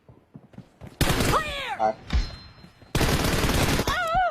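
Gunfire in the mobile battle-royale game PUBG Mobile: two loud bursts of rapid automatic shots, near and dense, with game effects and quieter sounds in between.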